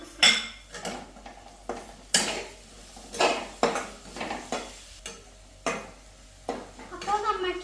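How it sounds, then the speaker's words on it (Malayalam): Ginger, green chili and garlic fry in a pan while a metal spoon stirs and scrapes in repeated clanking strokes about every half second, over a light sizzle, close and fairly loud. "ഇനി നമുക്ക് വേറെ മിക്സ് ചെയ്യാം."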